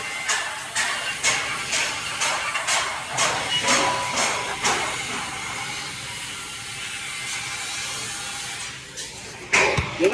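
Crackling, hissing arc from a vertical weld being laid, a fairly steady buzz broken by rhythmic bursts roughly every half second, close and alone before a brief clatter near the end.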